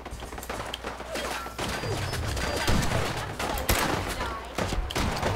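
Gunfire from a turret and super mutants in Fallout 4 crackles in dense, rapid bursts with heavy thuds, sustained over the whole stretch.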